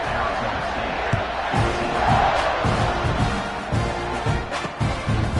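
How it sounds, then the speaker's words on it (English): A stadium crowd roars before a college football kickoff in an NCAA video game, a dense, loud, continuous cheering wash with repeated surges throughout. "They're set to kick it off, and this crowd now ready to get behind them."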